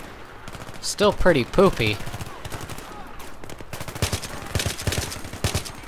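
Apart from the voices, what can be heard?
gunfire from a gun in the video game Battlefield 3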